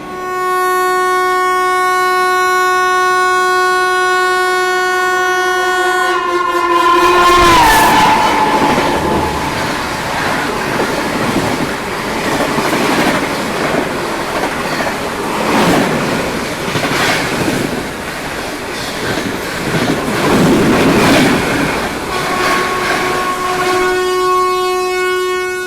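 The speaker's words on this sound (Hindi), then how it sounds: "सीमांचल एक्सप्रेस जो निकली है ना भाई, पूरा हॉर्न बजाते हुए, ज़बरदस्त था" The Seemanchal Express rushes past at speed with its horn blaring in a long, loud blast, then a sustained roar and rattle of wheels on rails as the coaches pass close by.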